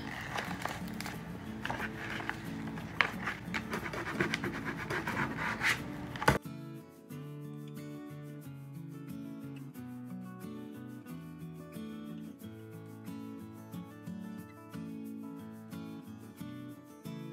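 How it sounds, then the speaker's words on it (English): A credit card rubbed firmly over transfer tape on a sign makes scratchy scraping strokes for several seconds, then music takes over. "rub your credit card over it."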